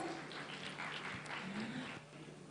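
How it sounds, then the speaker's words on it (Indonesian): An audience at a live book discussion in Makassar claps in a dense, steady patter of applause that runs throughout at moderate loudness, easing slightly toward the end. "Boleh minta tepuk tangannya?"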